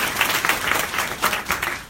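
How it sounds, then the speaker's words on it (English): An audience applauds Sherry at a women's empowerment launch event, with steady, dense clapping and faint crowd voices underneath throughout. "Sherry, let's give you a round of applause"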